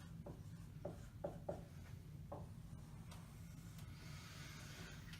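Faint scratchy strokes of writing on a board or paper, a handful of short separate marks in an uneven rhythm over a soft background hiss.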